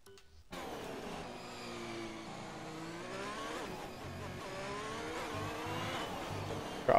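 A Formula 1 car in a racing video game lapping the Mexico circuit, its high-pitched engine whining and shifting through gears as it brakes and accelerates through an S-section, steady and close with no voices.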